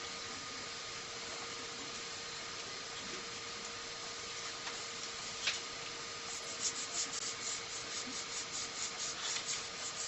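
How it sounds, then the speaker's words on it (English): Hand sanding a 3D-printed golden pheasant model with a sanding block gives a faint, steady rubbing hiss, turning into a quick run of short rhythmic scrubbing strokes toward the end. "Now you have to use sanding block so that you can get proper"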